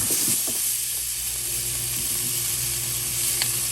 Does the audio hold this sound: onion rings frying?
yes